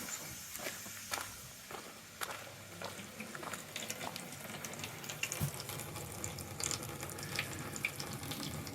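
Water runs steadily into a campervan's onboard tank, a continuous hiss and splash with scattered clicks and knocks on top, at moderate level with no voices.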